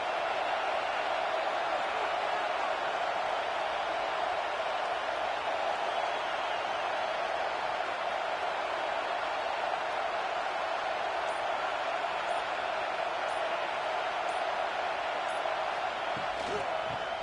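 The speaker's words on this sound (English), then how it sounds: "This crowd knows when to bring it." Stadium crowd at a college football game between Illinois and Washington, a steady dense roar of cheering and noise that holds loud and unbroken throughout, with no lull.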